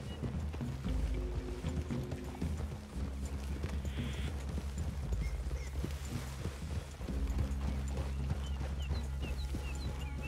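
Horse hooves clip-clop steadily across ground in Red Dead Redemption 2, close and rhythmic, with low ambient game sound beneath, a brief pause near the middle, then the trotting resumes and grows fuller.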